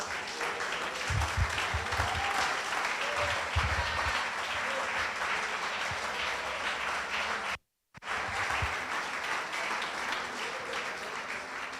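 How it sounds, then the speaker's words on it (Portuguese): A church congregation applauds in praise to Jesus, a long steady wash of clapping broken by a brief dropout, with low thumps here and there beneath it. "Aplauda o Senhor Jesus."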